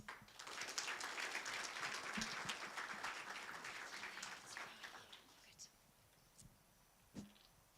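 Audience applause at a Child Sponsorship Day event fills the opening seconds, dense and steady, then thins out and fades to scattered claps near the end.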